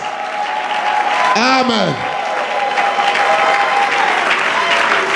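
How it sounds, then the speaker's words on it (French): A church congregation applauds and cheers for Jesus in steady, loud clapping that fills the whole stretch, while a voice speaks over the crowd. "Acclamez Jésus très fort là aussi."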